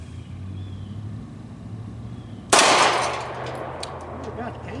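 A single loud Kahr .45 pistol shot fired outdoors at steel targets, a sharp broadband crack followed by a ringing, decaying tail, with a low rumble of background noise before it.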